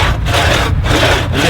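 Hand saw cutting through wood at a ploughing match, with steady back-and-forth strokes in a continuous, even rhythm, close and loud, with brief pauses roughly every half second as the blade changes direction.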